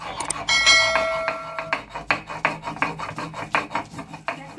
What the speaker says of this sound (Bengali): আমি এই যে চাল কুমড়োর খোসাগুলোকে এইগুলোকে আমি এবার একটু শিলে বেটে নেব।